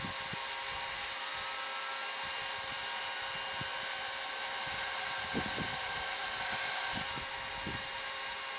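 A fan is turned up to about 30 mph and blows wind at a Smokineer Nomad camp stove. It makes a steady, loud broadband whoosh throughout, with faint low thumps underneath.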